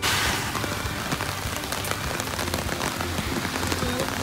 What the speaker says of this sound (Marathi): फुल पाऊस चालू झालेला आहे